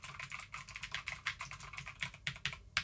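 Rapid, crisp clicking of a 1st Player Mk 6 Bullet Hunter mechanical keyboard with blue switches being typed on steadily, keys bottoming out, each keystroke sharp and clicky, close and fairly quiet with no voices.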